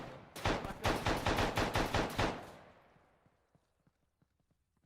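Rapid automatic gunfire in an Arma 3 firefight, a burst of about ten loud evenly spaced shots that stops and fades into a ringing tail, followed by faint scattered distant pops.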